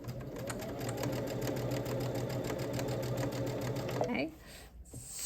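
A sewing machine stitches quilted Christmas stocking pieces together, a steady close mechanical whirr with rapid needle rhythm for about four seconds before stopping, followed by a brief rustle.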